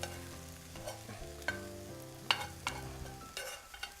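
Oil-free tempeh fajitas sizzle and get stirred in a pan, with quiet sizzling and intermittent clanks and scrapes from the stirring, faint overall and no talk.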